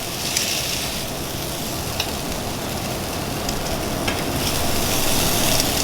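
Noodles and onions sizzle steadily in a hot pan, a continuous broadband frying hiss with faint stirring clicks, close and fairly loud throughout with no talking.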